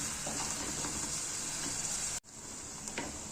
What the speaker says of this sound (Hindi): प्याज को फ्राई करना है अच्छी तरह से।